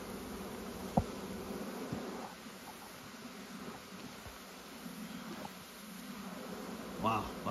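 Honey bees buzz around an open hive during a beekeeper's inspection, a soft, continuous hum in the background with a few brief knocks and clicks from handling frames.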